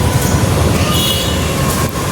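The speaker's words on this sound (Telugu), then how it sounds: "కనిపిస్తుందా మెట్రో?" A metro train rolls past on an elevated line in a city, a loud continuous rumble of wheels and carriages with faint rail squeal, close by and steady throughout.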